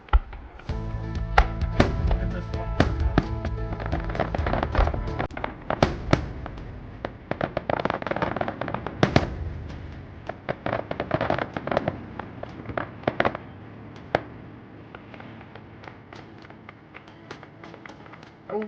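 Fireworks and firecrackers for Canada Day pop and bang in rapid, irregular bursts, some sharp and close, others duller and farther off, with a steady crackling rumble underneath and quieter scattered reports toward the end.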